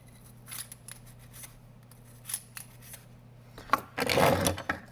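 An oiled bore brush scrubs back and forth inside a gun barrel, giving several short, faint scraping strokes, then a louder, longer rasping pass at the end.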